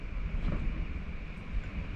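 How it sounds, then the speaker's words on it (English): Steady low rumbling wind noise buffets the microphone throughout in Desert Hot Springs, a continuous dull roar with slight surges and no voices. "Windy day and windy night."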